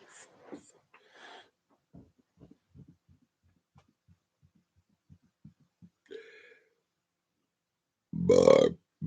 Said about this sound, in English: Burp, burp, burp, burp,